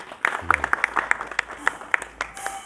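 An audience at a religious satsang gathering claps to welcome a guest, a short burst of scattered individual hand claps with some voices mixed in.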